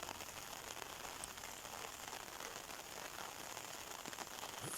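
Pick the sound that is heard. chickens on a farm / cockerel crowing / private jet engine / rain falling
rain falling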